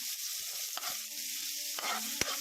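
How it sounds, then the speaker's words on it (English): Garlic and onion sautéing in a pan for cream of mushroom soup give a steady close sizzle with a few soft clicks and pops of stirring. "saute the garlic and the onion well"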